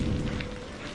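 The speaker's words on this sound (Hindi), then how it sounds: "बस बारिश की लगातार ध्वनि" Heavy continuous rain, a dense steady hiss with a low rumbling undertone, loud and unbroken throughout a brief stretch.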